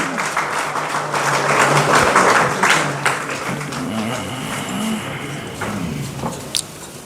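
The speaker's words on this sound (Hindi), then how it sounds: "लगातार आपकी तालियां बजनी चाहिए।" Scattered audience clapping at a talent-honouring ceremony in Ayodhya rises to a fuller burst, then thins into lighter, irregular claps with a few taps and footsteps around it.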